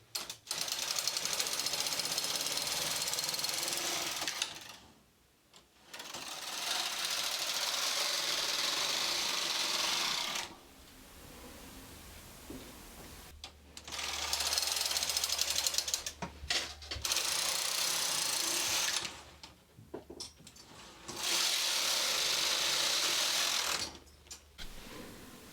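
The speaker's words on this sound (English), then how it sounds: "Now I'm going to change to waste yarn and knit a few rows" A Brother 260 knitting machine knitting rows of waste yarn with a ribber attached, its carriage rattling loudly along the bed in repeated passes several seconds long, separated by short quiet pauses.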